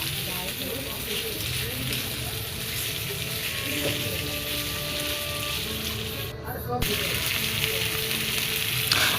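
Kalbaush fish fries with salt in a pan for a Bengali curry, giving a loud steady sizzle with occasional stirring, briefly dipping once before resuming, and faint background sounds beneath.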